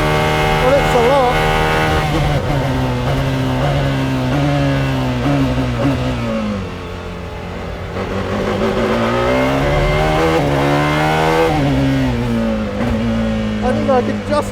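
McLaren Solus GT single-seat hypercar with an 858bhp V10, driven hard on a track: a loud, close engine climbing through the revs, shifting, dipping briefly and surging again, with a voice talking over it throughout.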